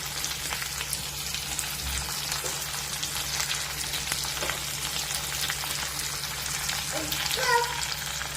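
Dried red chillies and crushed garlic fry in hot oil with a steady, close sizzle and crackle throughout, a few faint clinks and stirring touches breaking through near the end.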